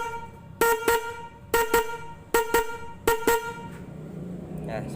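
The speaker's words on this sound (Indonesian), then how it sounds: "cek sound klakson GL100 satu persatu" Four paired honks from an UHUL bakpao-style horn fitted to a GL100 motorcycle, each pair a double toot with steady harmonic tone, loud and close, separated by short pauses.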